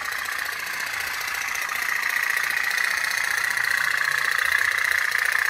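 Toy steam pop-pop boat with a wax-fuelled burner running, a steady rapid putter with a bright buzzing tone, fairly close and continuous, with no talk over it.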